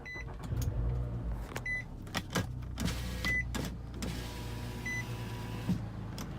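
Car power windows whir down in several motorized runs, broken by clicks and short pauses, close by with no talking.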